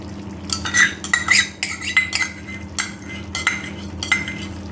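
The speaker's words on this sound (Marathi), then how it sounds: "आता मस्त एकत्र मिक्स करून घेतोय" Curd is stirred into a mixed vegetable gravy of peas, potato and capsicum, a spoon scraping and clinking against the pot in a quick irregular rhythm, close up over a low steady hum.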